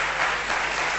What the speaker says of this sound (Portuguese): Ah, palmas.